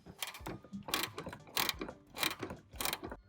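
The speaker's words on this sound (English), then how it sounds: "I'm using a 15mm wrench, and this is also a ratcheting wrench on the other end to help speed things up." A 15mm ratcheting wrench clicks steadily as it backs out exhaust hanger bracket bolts under a Chevy Equinox during a hitch receiver install, with repeated close bursts of fast ratchet clicks separated by short pauses.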